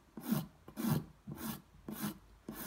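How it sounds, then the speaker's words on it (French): Soft, quiet rasping strokes of a nail file shaping an acrylic gel fingernail, five even back-and-forth passes at a steady rhythm, close up. "Maintenant, je vais remonter, limer comme ça vers le centre"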